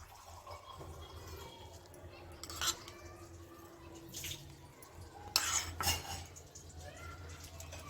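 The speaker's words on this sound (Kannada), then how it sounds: "ಆ ಅಕ್ಕಿನ ಇದಕ್ಕೆ ಸೇರಿಸ್ಕೊಳ್ಳೋಣ" Rice is tipped into a pot of milk for caramel rice kheer and stirred, with quiet clinks of a spoon against the metal pot and a few louder scrapes and knocks, close by and fairly faint.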